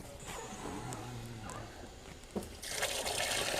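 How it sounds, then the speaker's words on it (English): A garden hose runs water into a sump pump pit in a basement, a steady pour and trickle that swells into a louder, hissing gush during the final second. "we've got a hose right here, and that is filling up this pit"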